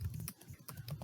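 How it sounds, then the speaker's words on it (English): Typing on a computer keyboard while entering team members' names in Microsoft Teams: a quick, uneven run of close, crisp key clicks with short pauses between bursts, and no voices. "I'll start typing Ankita Sarkar,"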